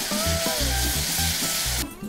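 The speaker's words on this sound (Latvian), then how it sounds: "pievienosim mūsu džinu un mazliet aizdedzināsim, lai mums alkohols izgaro" Gin flambéed in a hot pan gives a loud, continuous sizzle and crackle up close, with low clunks of the pan underneath. The sound thins out abruptly just before the end.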